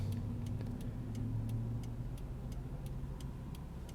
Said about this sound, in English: Sitting at a red light with a bunch of cars going by from left to right.